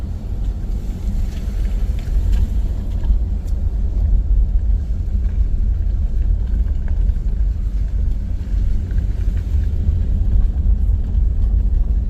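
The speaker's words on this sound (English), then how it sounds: "the old Subaru Crosstrack has no problem" An old Subaru Crosstrek climbs a riverbank, heard from inside as a steady low engine and road rumble with no speech.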